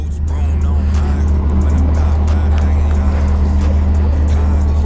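A supercar revs hard at a London supercar meet while doing tricks, a loud, steady, continuous engine roar up close with a crowd murmuring faintly behind.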